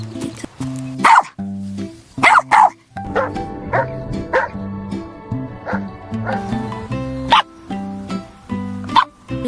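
A dog gives a series of short barks and yips at irregular intervals, mixed with music-like tonal background sounds.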